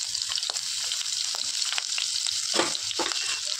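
Chopped ginger, garlic and chili hit hot mustard oil in a pan, crackling and spitting in an energetic close-up fry with bursts of sharper pops and spatula scrapes, no voices.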